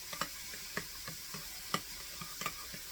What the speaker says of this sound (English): So then what I'm going to do is stir all that together.